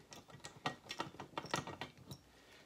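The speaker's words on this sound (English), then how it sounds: "the next step is to loosen the nut in the back" A wrench ratchets on the nut of a beer shank on a bottle filler, giving about a dozen close, quiet clicks in a steady, slightly uneven rhythm.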